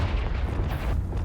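A Confringo spell explodes in Hogwarts Legacy, a single short, deep, rumbling boom lasting just over a second.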